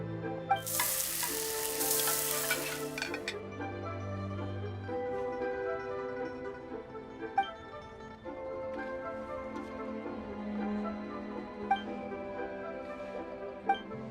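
Cooking sizzle from the Genshin Impact video game, a steady frying hiss with soft stirring and occasional clinks, laid over continuous tonal game music.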